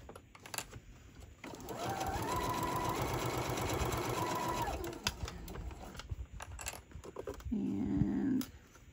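Sewing machine stitching a small box-style zipper pouch in short runs, with a steady buzzing whir in the middle and a quicker burst near the end, fairly quiet with a few handling clicks around it.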